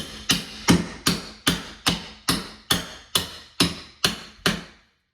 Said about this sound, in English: I got my trusty super bar and hammer, and we're just gonna get behind the casing.